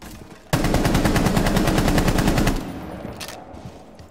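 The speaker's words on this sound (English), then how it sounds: "They're shooting at me." Automatic gunfire in the video game Rainbow Six Siege: a loud, close burst of rapid shots lasts about two seconds, then cuts off into quieter ambient game noise with a faint later report.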